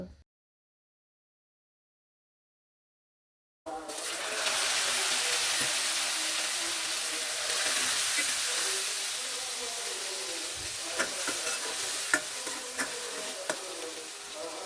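Flour curry (atta tarkari) poured into a hot karahi of five-spice tempering for a Gaibandha-style beef dish hisses and sizzles loudly and steadily after a few seconds of silence, with occasional stirring clicks.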